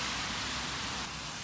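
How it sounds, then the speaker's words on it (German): Steady rain falls while someone shelters under a tree, a dense, even hiss of drops that continues unbroken and fairly loud throughout. "Wie ihr vielleicht sehen könnt, es regnet."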